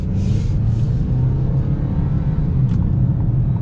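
A 2025 Ford Maverick XLT pickup truck driving in light traffic, heard from inside the cab as a steady low engine drone and rumble with no talking.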